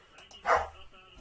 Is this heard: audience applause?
no